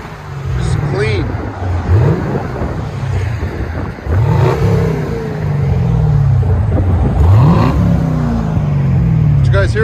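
Inside a Chevy Camaro SS 6.2L V8 fitted with a Flowmaster Flow FX exhaust, the engine climbs through several rising pulls with drops at each shift, a deep, loud, continuous roar with people talking over it.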